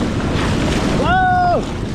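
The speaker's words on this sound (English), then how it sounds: "The waves are pulling in!" Ocean waves surge onto a cold winter California beach during surf fishing, a loud continuous wash and rumble with wind noise, while a short tonal squeal or call rises and falls in the middle.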